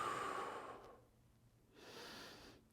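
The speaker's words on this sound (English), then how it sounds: "Continue to take a few deep breaths" Slow, deep breaths during a floor mobility stretching routine: a long, soft exhale followed by a quieter pause, then another breath, close and faint with no talking.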